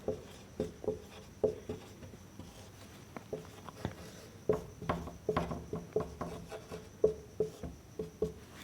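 Pen writing on paper during a Class 10 maths lesson on linear equations, a series of short scratchy strokes in uneven bursts, close and fairly quiet, with no talk over them.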